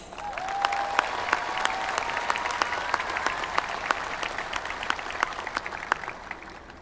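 A high school graduation crowd applauds in a steady, moderately distant wash, with sharper individual claps standing out and a brief whistle near the start.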